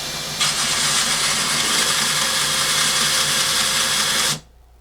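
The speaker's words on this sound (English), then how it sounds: "as I push it down against the sanding belt, I'm putting at the angle that I drew on the rod earlier" A belt sander grinds a metal rod pressed at an angle against the moving belt, a loud, steady broadband whine that holds for about four seconds, then cuts off abruptly to near silence.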